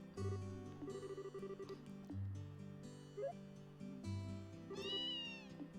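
Cartoonish cat meows in a video game, several short mewing calls over light game music, fairly faint and alone with no talk.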